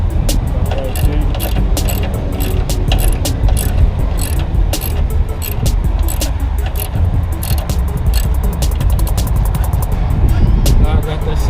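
A ratchet wrench clicks rapidly and continuously while tightening screws, a loud, close, rhythmic pawl rattle with a mechanical hum underneath throughout.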